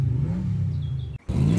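A cartoon car's engine revs loudly in a children's story, a steady mid-pitched rumbling roar that cuts out briefly near the end before surging back, with no voices over it.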